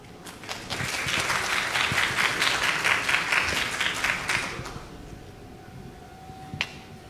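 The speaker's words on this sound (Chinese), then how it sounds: "让我们掌声欢迎李资委" Audience applause at a Taiwanese cybersecurity conference greets a speaker on the next decade of national security, a dense, steady clapping crowd for about four and a half seconds before fading to a quiet room with a faint hum.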